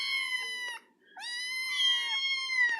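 Kittens 45 days old meow loudly and close up for food, one drawn-out cry and then a longer wavering one with overlapping mews, with no talk.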